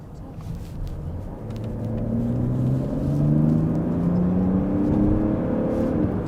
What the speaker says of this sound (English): let's enter the Autobahn and I will show you acceleration to 80 kilometers an